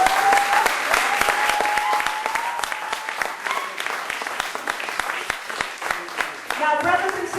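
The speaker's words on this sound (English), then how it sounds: "Let's give him a round of applause." An audience claps at a Pan-African party gathering while a tribute is paid, the sharp individual claps standing out through a steady spread of applause.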